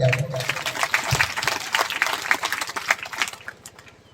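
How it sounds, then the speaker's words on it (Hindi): A congregation at a Christian worship gathering breaks into hearty applause that starts strongly, with a voice briefly heard at the onset, then gradually fades toward the end. "चलिए हम जोरदार ताली बजा दें"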